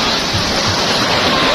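Surf breaking at White Beach in Masamirey, a continuous loud broadband wash of waves close by, steady with no pauses.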